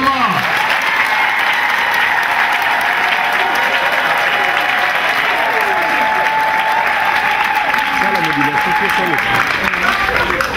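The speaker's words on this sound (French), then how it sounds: "que je vous demande d'applaudir fortement" A large audience at a formal ceremony applauds loudly and steadily, a dense continuous wash of clapping that fills the whole stretch with a faint tonal hum underneath.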